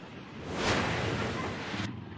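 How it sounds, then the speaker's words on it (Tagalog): Floodwater rushes over a spillway in a steady, broad roar, a continuous outdoor torrent that swells slightly and then cuts off abruptly. "hindi madaanan ang spillway dahil sa pag-apaw ng tubig"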